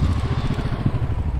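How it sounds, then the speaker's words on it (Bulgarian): A motorcycle rides through a decreasing-radius turn, braking and then leaning in again, its engine pulsing in a close, steady low throb with no talk. "Изправям мотора, спирачка и влизам втори път към истинския апекс."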